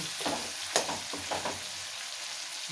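Tomatoes sizzle and fry in a kadai while a ladle presses and mashes them. A steady hiss runs throughout, broken by several soft scraping, squishing strokes close up.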